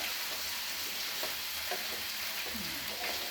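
Stuffed eggplants fry in a wide, flat-bottomed pan and are turned over, giving a continuous sizzle broken by scraping and shuffling noises as the pieces are flipped.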